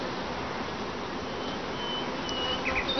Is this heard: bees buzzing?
yes